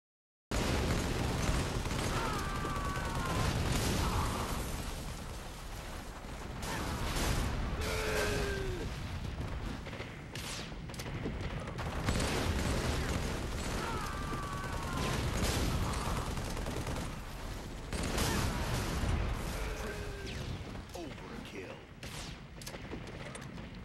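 Halo 3 multiplayer gunfire rattles in bursts, with a grenade thrown at a Warthog exploding among booming shots, moderately loud under a commentator's voice.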